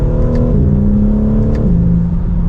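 A 2024 BMW M3 CS accelerates from inside the car, its engine revving up in a loud droning pull with a quick gear shift midway, steady and close.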